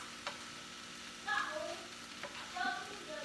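Ground meat and vegetables are stirred in a pan, a soft low sizzle with scraping and tapping of the utensil, plus faint squeaky sounds in the background.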